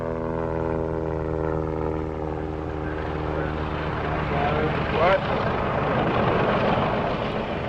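Tow plane launching a sailplane at an academy airfield, a loud, steady propeller engine drone filling the scene with a slight pitch shift partway through and no pause.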